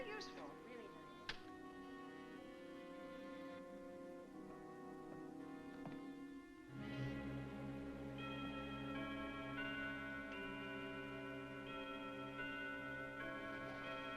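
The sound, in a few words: clock ticking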